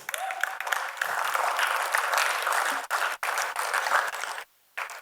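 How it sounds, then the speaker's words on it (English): An audience at a school symposium applauds, a dense, even wash of clapping from a room full of students that holds steady for several seconds, briefly cuts out, then resumes before fading. "can we have a greater round of applause for your friends?"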